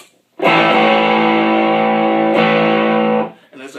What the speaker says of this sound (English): So here's the distortion.